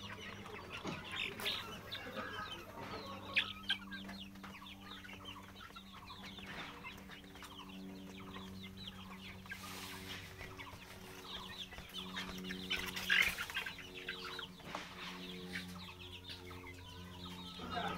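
Sonali chickens on a poultry farm cluck and cackle in a soft, scattered chorus. The calls overlap continuously at a moderate distance against a quiet background.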